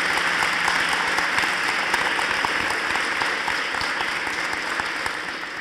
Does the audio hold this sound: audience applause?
yes